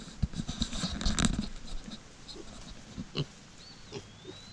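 A pig being fed corn on a farm gives a few short, scattered snorts and grunts, with scratching and rustling in between, fairly close and irregular.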